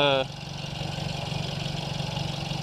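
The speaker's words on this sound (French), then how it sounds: "Le bruit, quand on accélère qui sort de l'admission, est assez sympa." Suzuki Swift Sport engine fitted with a Simota air intake, idling with a steady low pulsing throb close to the car, after a brief voice at the very start.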